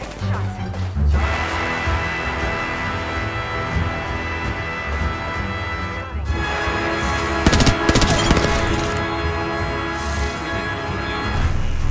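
Gunfire and crashing impacts from the Apex Legends battle royale game, loud and dense over a steady game soundscape, with a sharper burst of shots around the middle and continuous rumbling action throughout.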